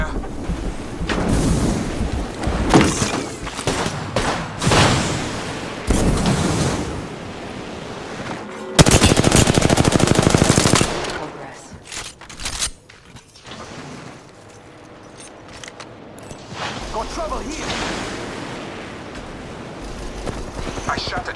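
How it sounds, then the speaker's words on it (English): Gunfire in the battle royale game Apex Legends comes in repeated bursts, with a loud sustained volley in the middle, then quieter scattered shots while a player talks over the fighting. "Listen up, I'm getting shot at."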